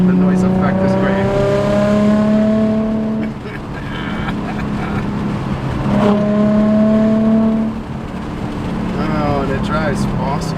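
A 2020 Kawasaki Z125 motorcycle fitted with TST Industries parts revs loudly under riding, its engine pitch climbing through gears with a brief dip between shifts, close and continuous with wind noise.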